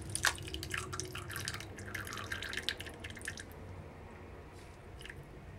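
Fragrance oil is poured into soap batter, giving soft wet dribbling and squishy drips close by that fade into quiet room noise.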